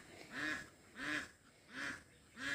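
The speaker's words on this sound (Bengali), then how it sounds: "পাখির ডাক, হাঁস মুরগির ডাক এগুলো শুনতে বেশ ভালো লাগে" Ducks at a village pond give four evenly spaced, nasal quacks, moderately close and fairly faint, with quiet gaps between calls.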